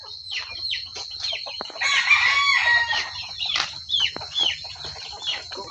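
Chickens cluck in bursts while a rooster crows, close by in a quiet rural yard, with a faint low hum underneath and no voices.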